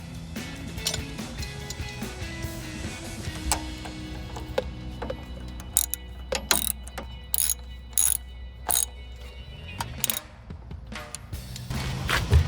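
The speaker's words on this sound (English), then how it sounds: "Tighten that with the 10 millimeter." 10 mm ratchet tightening a bracket bolt during a Chevrolet Silverado 1500 upper control arm install, heard as close bursts of rapid ratchet clicks over a low background rumble, with some metallic taps.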